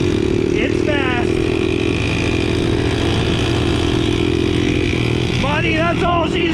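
A 1969 Honda Z50 pit bike runs on backroads, its small engine buzzing loudly and steadily up close, while a voice talks over it throughout.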